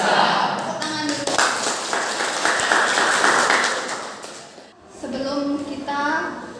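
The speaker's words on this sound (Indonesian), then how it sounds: "Tepuk tangan dulu." A class of schoolchildren in a classroom clap their hands together in a burst of dense, rhythmic clapping lasting a few seconds, close and fairly loud, with children's voices chanting or speaking just before and after.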